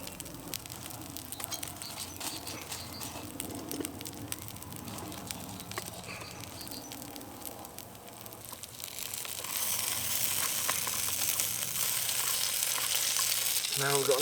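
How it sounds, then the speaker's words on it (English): Morcilla, sausage, mushroom and tomato fry in a Trangia camping pan, a steady close sizzle and crackle that grows louder and brighter partway through, with occasional scraping of a utensil. "we're going to just be frying up a bit of this smoked pork stuff"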